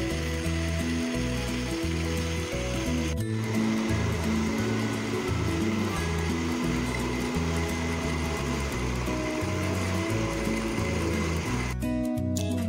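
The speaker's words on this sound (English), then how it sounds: "And you add little water and blend." A blender whirs loudly and continuously, chopping yellow pepper and onion with a little water, with a pulsing, grinding motor rhythm, briefly changing pitch partway through.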